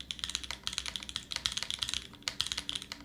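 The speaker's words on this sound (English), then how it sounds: "I'm just typing I love you chat over and over and over again" Rapid clacky keystrokes on a mechanical keyboard, close and steady, in quick bursts with short pauses and no voices.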